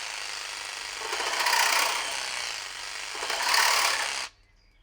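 A Makita DJR189Z compact cordless 18V reciprocating saw cuts steadily through material in two swelling pushes, loud and close, then it stops abruptly near the end.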